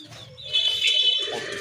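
Native domestic pigeons coo and chirp softly at close range in a brief, continuous burst, with faint background bustle.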